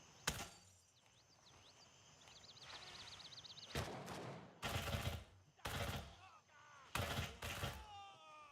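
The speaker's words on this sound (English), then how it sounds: "Enemy spotted. Firing." Bursts of automatic gunfire in a video game, several separate volleys of rapid shots loud and close, with electronic warbling tones and brief gaps between them.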